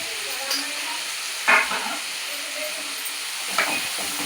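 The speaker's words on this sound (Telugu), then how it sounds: "మిరపకాయలు ఇలా మంచిగా ఫ్రై అవ్వాలండి. ఇలా ఫ్రై అవుతున్నప్పుడు కొంచెం పసుపు వేసుకోవాలి." Red chillies frying in a pan for a Telangana sesame curry, a soft steady sizzle with occasional stirring scrapes, fairly faint and with no talk.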